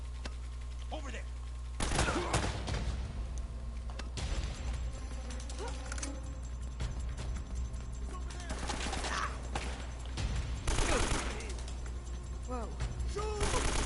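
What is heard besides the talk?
AK rifle gunfire in Uncharted: Drake's Fortune video game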